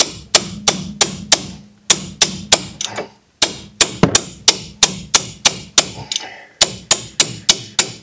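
Sharp metallic hammer blows strike a ratchet over and over to free a brake part on a Chevy Equinox, in quick bursts, loud and close, with brief pauses between groups of hits.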